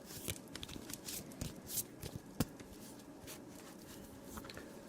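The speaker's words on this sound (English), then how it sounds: "Just doing a nice little shuffle." Rapid papery riffling of playing cards being shuffled, in quick bursts with a few sharper snaps, close by and fairly quiet.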